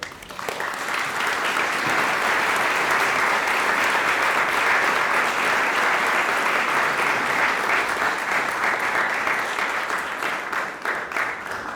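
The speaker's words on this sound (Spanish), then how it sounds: "Un aplauso, por favor" Sustained audience applause after a poem reading at a live event about people disappeared over oil in Barrancabermeja, loud and steady for nearly twelve seconds, easing slightly toward the end.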